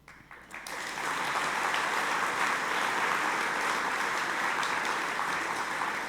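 A large audience applauds steadily at a farewell address during a Rough Riders roundup, a dense, even wash of clapping that swells in within the first second and holds loud and unbroken to the end.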